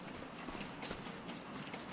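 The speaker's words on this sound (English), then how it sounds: "There goes the train." A long train rolling past a farm in Ray County, a steady broadband rumble with faint rhythmic clatter, heard from some distance and fairly quiet, without voices.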